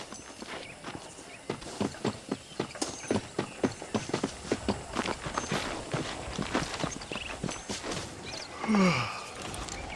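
Horse hooves clip-clop at a steady walking rhythm in the Red Dead Redemption video game, close and fairly loud, with a snort or whinny near the end and no speech.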